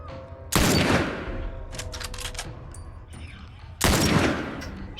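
Two loud bursts of gunfire in The Last of Us Part I, each a sharp volley followed by a decaying tail, with a few quieter shots in between.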